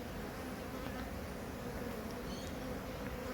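Bees swarming around an exposed beehive during a difficult relocation, a dense, steady buzzing drone filling the air close by without pause.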